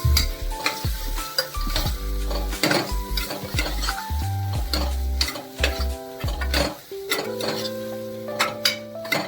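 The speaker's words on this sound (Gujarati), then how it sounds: "ત્રણ થી 4 મિનિટ માટે તેને તેલમાં સરસ રીતે કકડવા દઈશું" Potatoes crackling in oil in a pan, seasoned with coriander-cumin powder and salt, heard as close sizzling mixed with frequent spoon clinks and scrapes against the pot in an uneven rhythm.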